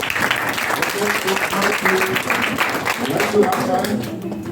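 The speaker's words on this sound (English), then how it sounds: "Let's give a hand of applause." An audience at a personality and leadership development workshop claps in steady, continuous applause filling the room for several seconds, with voices mixed in underneath.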